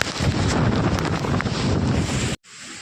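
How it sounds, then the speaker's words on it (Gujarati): A strong unseasonal wind and rain storm in a village roars past outdoors, with heavy gusts buffeting the microphone in a loud rumbling rush that cuts off abruptly near the end. "અત્યારે ફૂલ અને ફૂલ પવન અને વરસાદ જુઓ અત્યારે વાવાઝોડું જોરદારનું છે"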